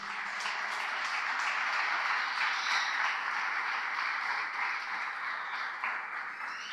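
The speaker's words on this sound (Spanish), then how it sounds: "Denle un fuerte aplauso al Señor." A church congregation gives steady, sustained applause, a dense wash of many hands clapping together at moderate volume for several seconds.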